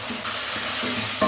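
Ginger garlic paste stirred into okra masala frying in a pan, a steady close sizzle with soft scraping strokes of a spoon and a louder clatter near the end.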